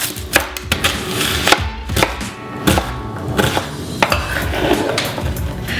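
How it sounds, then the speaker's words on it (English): Sweet onion chopped with a knife on a cutting board, a close, loud run of irregular sharp chops and taps, no voices. "Let me see when we start to chop it up though."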